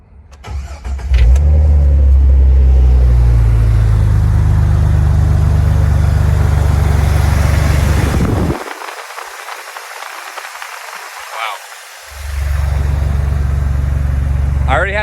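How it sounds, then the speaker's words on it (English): A Jeep fitted with aftermarket engine mounts cranks and fires up, settling into a loud, close idle; the engine then cuts off for a few seconds before restarting and idling again. "start the Jeep up for y'all."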